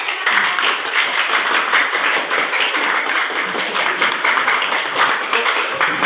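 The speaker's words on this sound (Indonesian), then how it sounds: "oke, tepuk tangan untuk Andini" A classroom of people clap together in dense, sustained applause after a group presentation, staying loud and even throughout.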